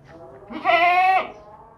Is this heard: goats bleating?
yes